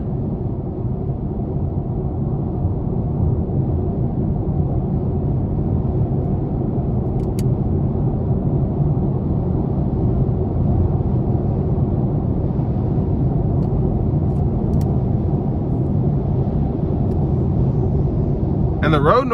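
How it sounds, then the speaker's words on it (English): Steady low road rumble and drone fill the cabin of a 2021 Chevy Spark LT Special Edition cruising at about 75 mph on the interstate, constant and unbroken throughout with no other sounds standing out. "the road noise is actually not as bad as I would expect from a car that you can get brand new for 17, 18 grand."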